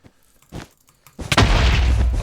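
A bomb goes off in Minecraft Bed Wars with a loud, dense boom that swells suddenly after a couple of quieter taps and then rumbles on at close range.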